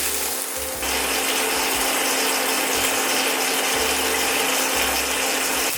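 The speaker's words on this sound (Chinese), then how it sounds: "给它碰到锅，给它煎一下" A salmon fillet pan-frying with its raised edge tilted down against the pan, giving a loud, steady, dense sizzle and crackle close by with no pauses.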